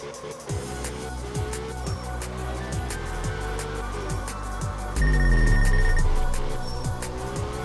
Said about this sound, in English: I totally ignored Cassie's text message.